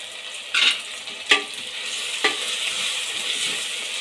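Chicken frying with turmeric and garam masala for green chicken biryani, with three distinct stirring scrapes and sizzle bursts over a continuous hot-oil hiss, close and fairly loud.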